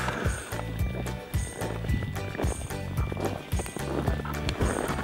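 Horses walking on a road, hooves clip-clopping in a steady uneven rhythm close by, several animals' steps overlapping, with no speech heard.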